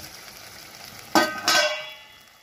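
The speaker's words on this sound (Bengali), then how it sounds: "এই মশলাটা কষানো হয়ে গেছে, এবার মাংসটা দিয়ে দেব।" Marinated chicken drops into hot, well-fried masala for chicken rezala, setting off two sharp bursts of loud sizzling close by that then fade into a quieter fry.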